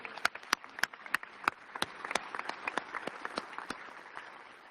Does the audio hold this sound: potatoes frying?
no